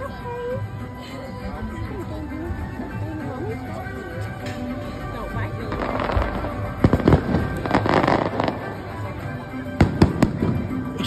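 Fireworks bursting at a Walt Disney World park during a 2024 family vacation, a dense crackling barrage with several louder booms, heard from a crowd with people talking nearby throughout.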